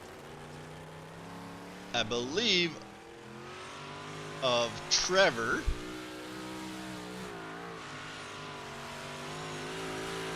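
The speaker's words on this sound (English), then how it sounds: "Now we got one car getting ready to roll" A 358 modified race car on the Kokomo dirt track in iRacing revs in two loud bursts of rising engine pitch, then settles into a steady running drone, with commentary talking over it.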